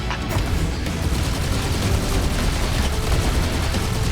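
Heavy Halo 2: Anniversary battle gunfire with sniper shots, a dense, continuous barrage of rapid shots and booms that stays loud and steady throughout.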